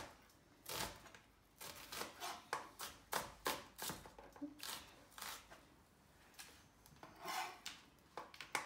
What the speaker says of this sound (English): And then I'm just going to chop this into strips.